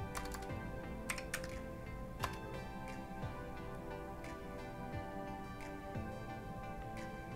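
Fingers type a pip install command on a computer keyboard, a quiet run of uneven clicking keystrokes over a steady tonal background hum, with no speech.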